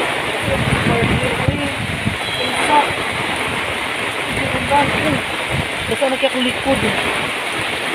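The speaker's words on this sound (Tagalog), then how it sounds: "Lakas talaga ng ulan." Heavy rain and gusting wind form a dense, steady roar in Balotan during a storm, with someone talking close over the downpour.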